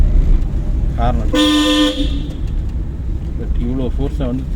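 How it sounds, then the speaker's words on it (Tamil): One clear, sustained car horn blast, about half a second long, sounds during a driving lesson, with voices talking before and after it. "ஹார்ன்"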